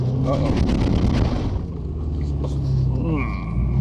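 A truck rumbles along a dusty dirt road in Utah deer country, a steady low engine drone with rattling and scattered knocks throughout, close and loud, while a voice speaks over it.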